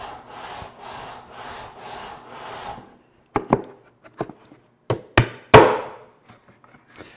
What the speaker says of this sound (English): you'd be surprised how fast you can remove wood with sandpaper